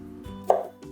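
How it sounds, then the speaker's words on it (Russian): A single knife chop through an onion while finely dicing it for a beef mince and zucchini dish, one crisp close stroke on a cutting board amid quiet kitchen background. "Нарезаю мелко 1 репчатую луковицу."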